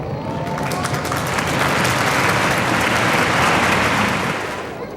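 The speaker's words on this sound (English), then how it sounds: "Nice round of applause for Corey Cruzman" Crowd in the grandstands at a USAC/CRA sprint car race in Ventura, California, giving a sustained round of applause that swells and holds for several seconds before tapering off, dense and fairly loud.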